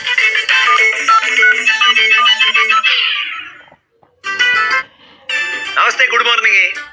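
A phone ringtone plays loudly during a call, a tonal melodic ring that stops, then returns in bursts mixed with other electronic sounds, with a voice over it.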